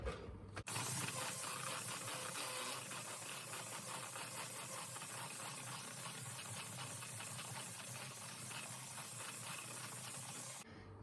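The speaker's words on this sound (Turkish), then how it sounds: "O yüzden hemen mikserimi alıp giriyorum. Hemen yüksek devirde bir çırpayım" An electric hand mixer whirs continuously at high speed while whisking a sugar mixture, a steady close rattling hiss that starts abruptly and cuts off near the end.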